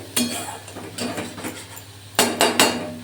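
Metal utensils clatter and scrape against a pan in short bursts as fried cauliflower is added to cooked spice masala, with a cluster of louder clanks near the end; no talking.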